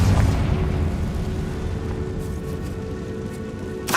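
Confringo blasting spell going off in Hogwarts Legacy, a loud, deep booming explosion that hits at once and rumbles away over about four seconds, with a fresh burst at the very end.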